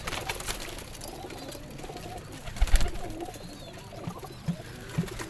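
Pigeons coo in a large rooftop loft holding around 170 birds, kept as breeding pairs; soft low coos surface intermittently through steady ambient noise, with a few louder thumps or wing sounds.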